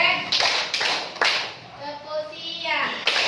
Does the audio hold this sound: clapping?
yes